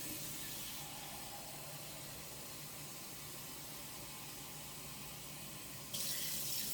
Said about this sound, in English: we're going to add about 2 cups of water, and I just use hot water